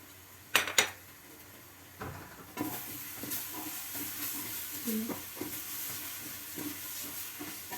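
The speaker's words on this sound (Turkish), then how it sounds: "Salçamızı çok güzel kavuruyoruz" Sweet pepper paste and tomato paste fry in a pot for dried bean and meat stew, giving a soft steady sizzle with a couple of sharp clinks of a utensil against the pot at the start.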